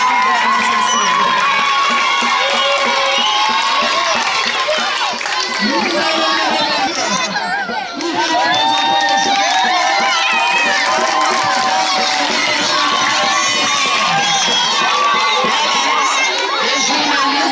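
A school crowd at a Mardi Gras celebration cheers and claps for young dancers, a loud continuous roar of shouting children and chatter with shrill whoops throughout.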